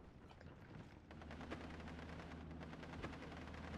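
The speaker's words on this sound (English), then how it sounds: "The 3-inch mortar is now getting shots onto the 88mm mortar, or 88mm flak 88 as well." Gunfire and artillery rumble in a WWII strategy battle in Steel Division, including a 3-inch mortar shelling an 88mm flak gun. The shots are distant and faint, forming a steady wash of repeated booms and crackles with no talk.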